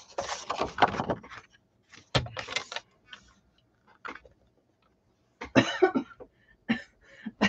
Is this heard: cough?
yes